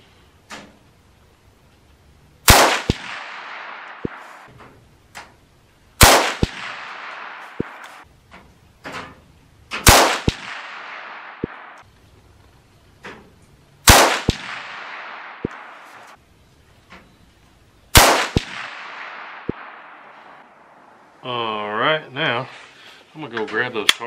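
Five sharp rifle shots from a CVA Scout in .300 Blackout ring out at a few seconds' interval, each crack followed by a fading echo and faint metallic pings from steel targets, with a brief muffled voice near the end.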